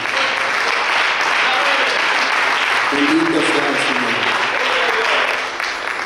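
Steady, loud applause from a church congregation fills the space for several seconds, with voices talking and calling out over the clapping.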